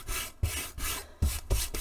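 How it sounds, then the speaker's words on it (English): Dye rubbed by hand into wet textile for a purple jacket: several close, coarse scrubbing strokes in an uneven rhythm, each a loud broadband swish of cloth rubbing against cloth, with no voices. "And it's easily rubbed into the fabric."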